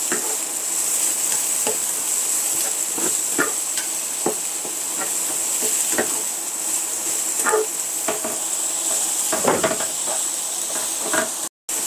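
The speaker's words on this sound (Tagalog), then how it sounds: "ituloy lang natin yung ating paggisa sa ating bawang at sibuyas" Garlic and onion sauté in a hot pan, giving a steady loud sizzle with scattered stirring clicks and scrapes throughout.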